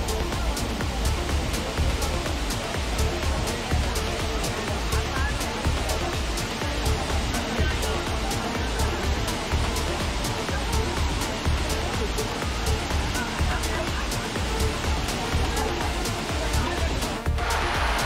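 Kappimala waterfall near Alakode, swollen in the monsoon, gives a loud, steady, close-up rushing roar of falling water, broken by frequent sharp thumps and buffeting like wind or handling.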